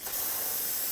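A single continuous hiss of brake parts cleaner sprayed onto a Chevrolet Silverado 2500 HD parking brake assembly, close and steady for about a second.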